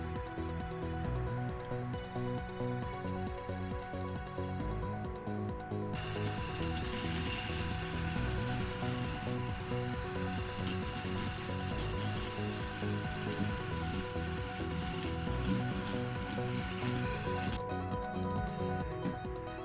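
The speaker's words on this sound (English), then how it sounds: "So we're going to drill in again, try and see if we can pull that peg out using just the drill bit." A small hand drill grinds into a snapped display-stand peg lodged inside a plastic action figure, a close, continuous whirring and chattering bite that grows brighter through the middle stretch before easing, with no talk.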